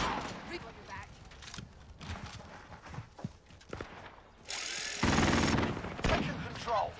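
Video game gunfire on the Alcatraz map: scattered shots and bursts, with a loud sustained volley near the end, mixed with voices and in-game chatter.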